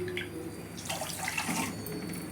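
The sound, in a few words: water being poured into a pan for sugar syrup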